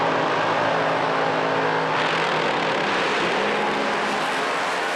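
A Pro Slammer drag racing car roars down the strip at 400 Thunder in Sydney, a loud, sustained engine blast that holds steady for the whole run with no voices over it.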